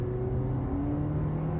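A 2023 Toyota Prius accelerating from inside the cabin, a moderate engine whir with tones that rise gradually under steady road rumble, heard alone.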